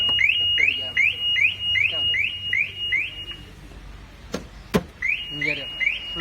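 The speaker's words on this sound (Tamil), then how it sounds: "இங்கே ஃபுல்லாக வண்டியில் எங்கே தெஃப்ட் ஏதாவது எங்கே டச் பண்ணாலும் அலாரம் அடிக்க ஆரம்பிச்சிடும்" A Toyota Urban Cruiser Hyryder's anti-theft car alarm chirps in a fast repeating series of rising electronic tones, breaks off for a couple of sharp knocks on the car body, then starts chirping again.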